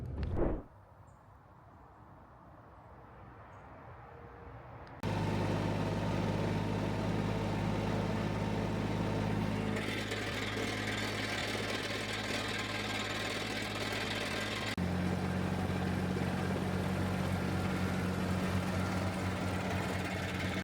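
A tractor engine runs steadily at close range, a loud continuous drone that follows a brief quieter stretch and a sharp knock, with its pitch and strength shifting a couple of times as it keeps running.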